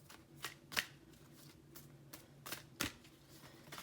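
A deck of oracle cards being shuffled by hand, close and quiet: a run of soft riffles and sharp snaps, with several distinct crisp card strikes spaced irregularly over a faint background.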